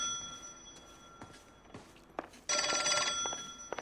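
An old-style telephone bell rings in the L.A. Noire video game, its shrill ring rising loud in the second half after quieter footsteps and small background sounds.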